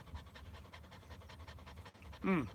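A dog pants steadily and softly in quick rhythmic breaths close by, a brief whimper or yelp rising at the end, in a quiet room after pizza.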